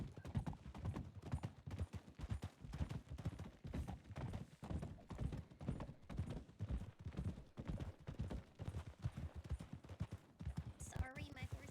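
Horse hooves clip-clopping in the WildRP roleplay video game, a rapid, steady run of close hoofbeats lasting throughout, with a brief higher sound near the end.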